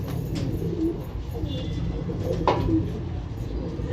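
Pigeons coo softly in a loft, with low murmuring calls and a brief flutter over steady background noise and some faint talk.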